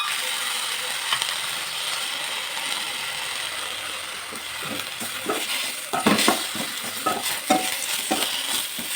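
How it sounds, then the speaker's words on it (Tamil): Coconut, coriander and mint sautéing in a pan for tomato chutney: a steady sizzle with scraping, clattering stirring strokes that grow louder and busier in the second half. "எதையும் கருக விடாமல் வதக்கிடுங்க."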